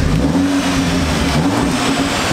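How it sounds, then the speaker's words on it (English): Audi S3 engine, recently fixed of a misfire and running on diluted 99 RON fuel, revving up in a continuous loud mid-pitched roar that rises and settles over a couple of seconds, heard close with no talking. "Give it a bit of a rev."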